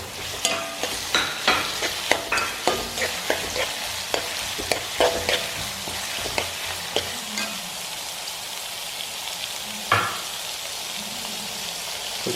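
Garlic, ginger and green chillies sizzle in hot oil while a spoon scrapes and stirs them in quick, steady strokes that fade into a softer continuous frying hiss, with no talking.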